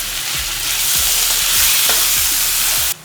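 Chopped tomatoes with turmeric and salt are stirred in a pan for a spring onion and tomato curry: a loud, close sizzle with repeated low spoon thumps and scrapes, cut off abruptly near the end.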